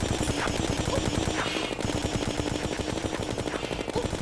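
Rapid gunfire with cursed bullets in Terraria during a solar eclipse, a fast, even stream of crisp shots running steadily from start to finish.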